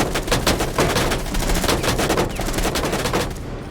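Rapid automatic gunfire in the video game Rainbow Six Siege, a dense, loud stream of closely spaced shots rattling continuously with no pauses, no talking.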